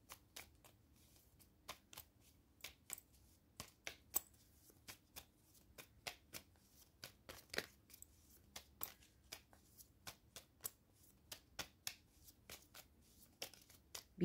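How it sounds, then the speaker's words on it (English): A deck of tarot cards being shuffled, crisp repeated riffles and flicks at an irregular but frequent rhythm, close and quiet against a silent background. "Sometimes cards need more time for shuffling."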